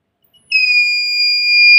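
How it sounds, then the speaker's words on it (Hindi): A flame sensor alarm, set off by a burning matchstick held near it, gives a sudden piercing electronic tone that begins abruptly and holds steady and loud after a moment of silence. "जलती हुई तीली को हमने सेंसर के पास रखा और बीप की आवाज आने लगी"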